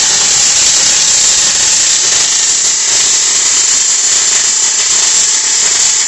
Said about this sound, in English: We are doing some MIG welding right now in the horizontal position.